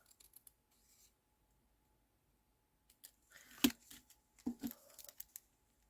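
Scissors snip through stamped cardstock in a short run of crisp, close cuts after a quiet pause, with faint handling rustle.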